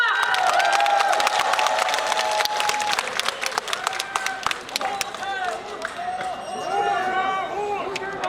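A crowd at an outdoor campaign rally for a Seoul mayoral candidate in Yeongdeungpo claps and cheers loudly throughout, with whistles, shouts and a voice over a loudspeaker cutting through the steady applause.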